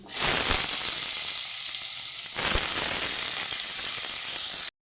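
Whole white cumin seeds dropped into hot oil in a wok, tempered for a watermelon-rind dish: a loud, steady sizzle and crackle with a short surge midway, cutting off abruptly near the end, no voices.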